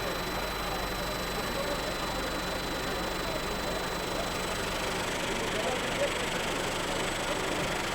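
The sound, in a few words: food manufacturing machine running with motor, cutter and vibrator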